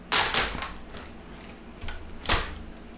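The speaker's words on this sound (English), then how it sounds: "Pull as quick as you can, and there's your old keyboard." A laptop keyboard on an HP 15-au010wm is pulled free of plastic welds and epoxy, producing sharp cracking snaps in bursts, two quick ones near the start and another later, between quieter rustling.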